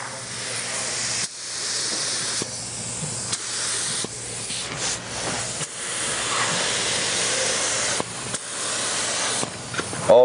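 An airbrush sprays in steady hissing bursts, broken by short pauses as the trigger is released and pressed again; close and fairly loud, with no talk.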